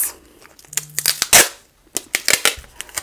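Adhesive tape being pulled and torn off a roll while making a crocheted basket from fabric yarn, heard as close, loud bursts of ripping and crinkling in quick uneven spurts.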